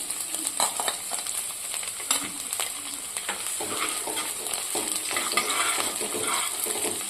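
Chopped onion, cut into long strips, frying in a pan for leftover-rice Manchurian, a steady broadband sizzle with scraping stirring and occasional clinks throughout, close and fairly loud, no talking.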